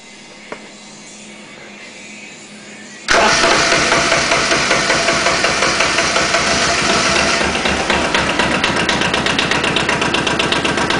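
An Arctic Cat diesel engine cranks on the starter in a warm garage, then fires and settles into a loud, steady running rhythm with repeated knocking pulses.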